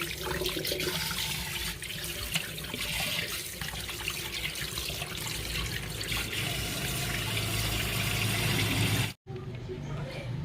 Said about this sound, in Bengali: এই যে রুই মাছ ভালো করে ধুয়ে নিয়েছি